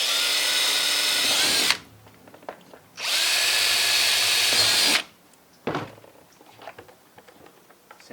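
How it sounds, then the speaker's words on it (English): A power drill bores holes for a case latch template, with two loud, steady whirring bursts of about two seconds each separated by quiet handling noises, then a brief clatter. "and then drill the holes."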